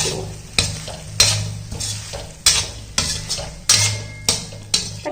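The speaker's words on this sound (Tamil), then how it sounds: "அதையும் நல்லா ஒரு வதக்கிடுவோம்." A spatula scrapes and clanks against a pan in repeated strokes while food sizzles steadily underneath.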